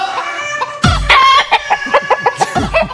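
Voices imitate chicken clucks and a crowing call, a string of short squawky bursts in quick succession, loud and close.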